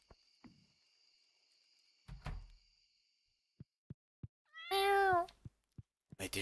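A cat meows after being petted in Stardew Valley, a drawn-out tonal call standing out among soft clicks and short game blips, fairly close and clear with no talking over it.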